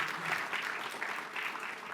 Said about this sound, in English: Please give Sal a round of applause.